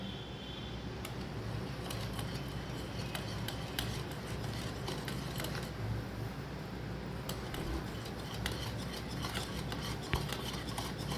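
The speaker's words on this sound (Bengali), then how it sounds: "এবার এই ময়দাটা অল্প অল্প করে দিয়ে যেন কোনো দানা না তৈরি হয়, ভালোভাবে মেশাতে হবে।" Flour being whisked bit by bit into an egg and milk batter in a bowl, a steady close wet rasping stir with faint clinks of utensil against the bowl, continuous and without talk.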